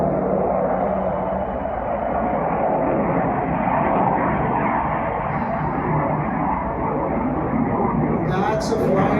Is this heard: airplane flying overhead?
yes